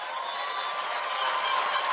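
A church congregation claps in praise during a worship service, a steady, dense wash of applause that holds at an even level throughout with no pauses.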